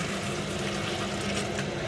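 Water poured into a cooking pot over browned curry ingredients, a brief soft steady trickle and splash, faint and unbroken.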